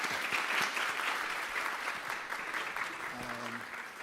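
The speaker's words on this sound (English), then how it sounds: "Can we give our speakers a round of applause," Audience applauding conference speakers at a digital health event, a steady wash of clapping from a crowd that continues evenly throughout, with a brief low murmur near the end.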